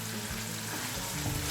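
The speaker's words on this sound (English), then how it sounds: "Now I'm gonna mix this all." A green chili paste mixture for a chicken dish is stirred in a pan, giving a soft, steady sizzle with faint scraping throughout.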